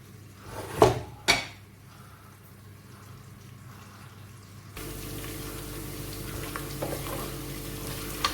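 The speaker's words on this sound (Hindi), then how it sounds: "अभी ये देखें लाइट ब्राउन हो गए प्याज और लहसुन।" Onion and garlic sizzle steadily in oil in a pan with a couple of sharp clatters early on, then the frying grows louder and denser, with occasional stirring sounds.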